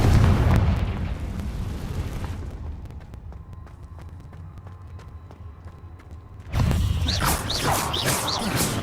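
A Confringo fire spell goes off in Hogwarts Legacy with a loud fiery blast that fades into a quiet humming lull before another burst of explosive crackle and roar.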